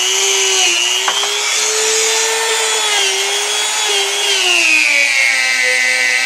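A motorized polisher works a part with white polishing compound, producing a loud, steady tonal whine whose pitch wavers slightly and sags toward the end.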